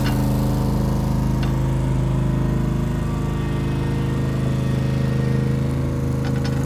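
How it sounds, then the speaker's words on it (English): A lawnmower engine drones loudly and continuously nearby, a steady rumbling chug that never lets up, with a few faint clicks on top. "going wild on the lawnmower today"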